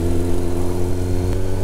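A vehicle engine runs close by on a road trip toward green countryside, giving a loud, steady, humming drone like an idle that holds evenly throughout.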